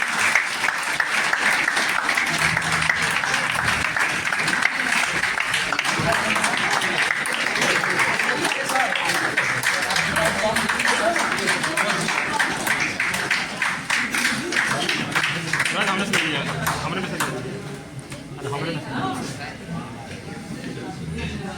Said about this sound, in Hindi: आप लोग ताली बजाते रहिए प्लीज।